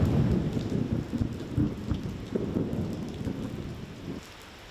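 Heavy rain pours during a thunderstorm in Mauritius, a dense steady roar of rainfall with low rumbling thunder swells, loud at first and easing slightly toward the end.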